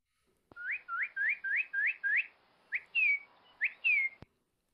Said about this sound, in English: Cardinal.